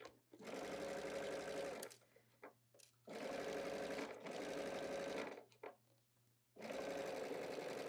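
A domestic sewing machine stitches across a fabric tank top yoke in four bursts of steady, close whirring, each a second or two long, separated by short pauses with faint handling noise.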